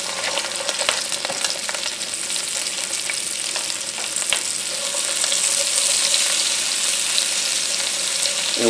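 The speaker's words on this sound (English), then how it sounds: "And we're going to go ahead and we're going to saute these guys." Two onions sauté in a pot, a loud steady sizzle with small crackles throughout and a few sharper clicks of a spoon against the pot.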